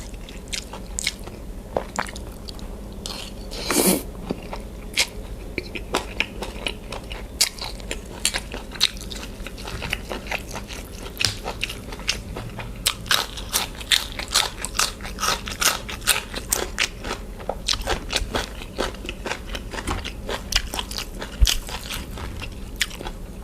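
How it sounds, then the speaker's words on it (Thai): Close, wet chewing and crunchy bites of Thai pork larb with field crab repeat in an uneven rhythm, loud and intimate, with no talking over them. "ผมกินคำพอดี"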